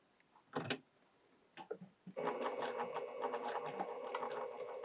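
A sewing machine stitches irregular patchwork curves, starting in a steady continuous run after a few short handling knocks and clicks at the start.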